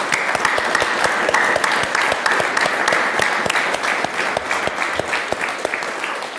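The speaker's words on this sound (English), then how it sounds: "Let's please give them a big round of applause." A full audience at a climate summit in London breaks into a big, sustained round of applause for visiting community members, dense steady clapping filling the room with no talk over it.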